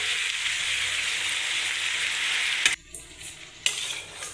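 Tomatoes sauté with turmeric and rock salt in a pan for tomato thokku, a strong continuous sizzle that breaks off abruptly with a clatter, then resumes more softly with another knock.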